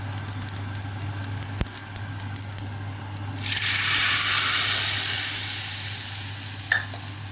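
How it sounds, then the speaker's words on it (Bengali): Mustard seeds and dry red chillies sizzle in hot tempering oil for a dal. The hiss swells suddenly after a few seconds, stays loud and steady up close, then slowly eases, with a low hum underneath. "এখানে ফোড়ন দিয়েছি সর্ষে আর শুকনো লঙ্কা।"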